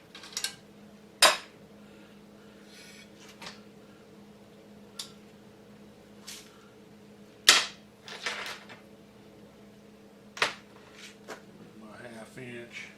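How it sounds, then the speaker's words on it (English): Metal tools clink and knock sharply against a chipper engine as its recoil cover is taken off, giving scattered loud clacks and ticks with quiet gaps between them. Someone speaks in between. "First we'll get the recoil cover off of it."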